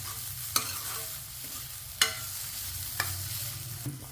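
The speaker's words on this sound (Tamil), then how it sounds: "இப்படி தேங்காய் நல்லா வதக்கிடணும் அந்த பச்சை வாசனை போகிற வரைக்கும் நம்ம நல்லா வதக்கிடணும்" A spatula stirs one cup of grated coconut as it sautés in a pan for carrot and paneer biryani, with a steady low sizzle and a few sharp scraping strokes at irregular intervals. Close and fairly quiet, with no talking.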